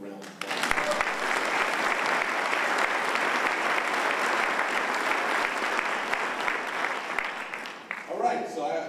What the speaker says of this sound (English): So we got to give them a round of applause.